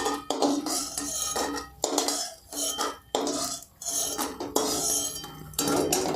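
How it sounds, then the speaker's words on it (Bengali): Fried lentil badis lifted out of a kadai with a metal spoon, repeated scraping and clinking of utensil against the pan in bursts with short pauses, close and fairly loud, with no speech. "এইভাবে লাল করে ভেজে নেওয়ার পর বড়িগুলোকে একটি জায়গায় তুলে নিন"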